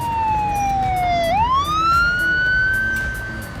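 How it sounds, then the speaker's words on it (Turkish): A wailing fire engine siren sweeps down in pitch, then rises and holds a steady high tone, loud and continuous with traffic rumble underneath. "Bir baktık ki itfaiye geliyor."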